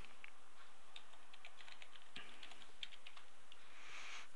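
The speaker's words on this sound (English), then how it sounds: "once we've keyed in the password" Rapid, light key clicks from a computer keyboard as a password is typed, a steady close patter of taps with a few louder strokes near the middle, no talking.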